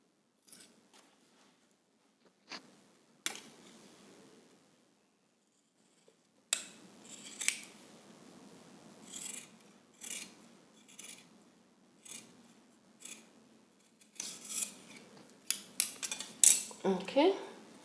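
Scissors cut through skirt fabric in a quiet room, with intermittent snips and rustling slides, some sparse and faint at first and then busier and louder bursts near the end, with no voices.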